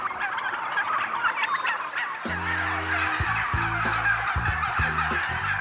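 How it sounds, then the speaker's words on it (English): A flock of turkeys on a farm gobbles loudly and close, several rapid warbling calls overlapping after a couple of seconds of open-air background noise, with no talking. "you're sleeping out here with the turkeys as well."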